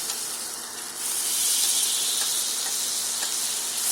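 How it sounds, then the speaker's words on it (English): Butter melting in a pan for a roux gives a steady, close sizzling hiss that swells louder after about a second and then holds even, with faint crackles and no talking. "My butter is melting"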